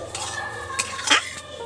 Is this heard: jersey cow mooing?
no